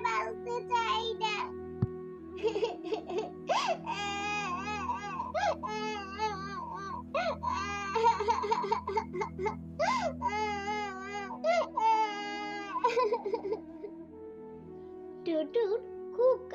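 A cartoon girl cries and sobs at length, close and clear, with wailing, hiccuping sobs and whimpers in a broken, uneven rhythm.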